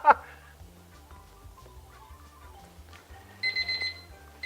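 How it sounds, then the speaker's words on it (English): A kitchen timer goes off while chocolate chip cookies bake in the oven, giving a short burst of rapid, bright electronic beeps near the end after a quiet stretch, close and fairly loud. "There goes our timer."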